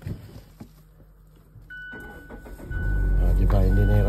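A car engine cranks and fires up in cold Canadian winter weather, rising from a short starter whir into a steady low idle, heard close after some quiet handling and a chime.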